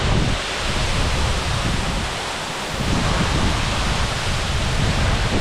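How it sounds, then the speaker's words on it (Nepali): A tall waterfall roars steadily, its wind-blown spray adding a dense, unbroken rush of broadband water noise with no talk over it. "झर्ना पनि एकदम लामो झर्ना रहेछ अग्लो झर्ना"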